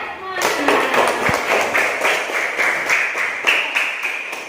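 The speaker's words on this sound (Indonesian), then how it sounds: "Oke, tepuk tangannya." Students in a classroom clap for a classmate, a burst of brisk, rhythmic claps from a small group that carries on at an even pace, with speech mixed in.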